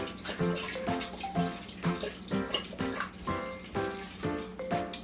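A whole bottle of liquor glugs out into a cooking pot in rhythmic pulses, each gurgle of air through the bottle neck followed by a splash of liquid, fairly quiet and close.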